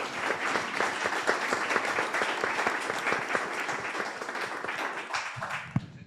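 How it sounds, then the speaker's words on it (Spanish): A seminar audience applauds a panel on energy storage with a steady, moderately distant round of clapping that tapers off toward the end, with a single sharper clap near the close. "un gran aplauso para este panel."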